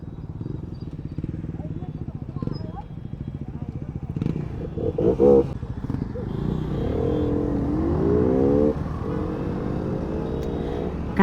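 A motorcycle on a group ride from Gurgaon to Delhi drones steadily through heavy city traffic, its engine rising near the end, with voices talking over it.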